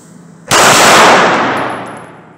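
A loud rifle double shot (a doublet) cracks sharply, then rolls into a long, fading echo that tails off over about two seconds.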